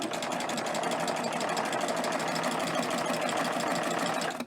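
A serger overlocks a single layer of fabric with heavy 12-weight thread, its motor humming in a fast, even rattle that stays loud and close throughout before cutting off at the end.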